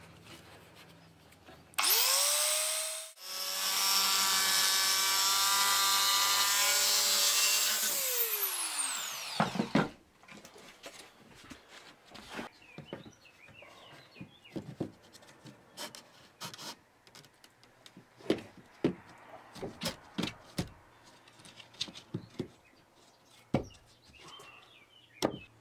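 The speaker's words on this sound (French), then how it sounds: "Pour l'occasion je vais utiliser la petite scie de Dremel là." A small Dremel saw cuts a wide wood panel board for ceiling paneling, a loud high whine for several seconds that winds down, followed by scattered knocks and handling clatter of the boards.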